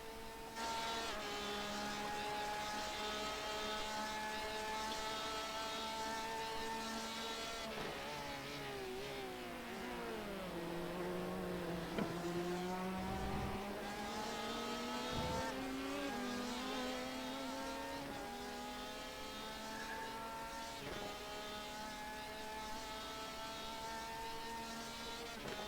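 An LMP prototype race car in the iRacing sim roars past, its engine note rising and falling through gear changes over a continuous loud drone of the player's own car.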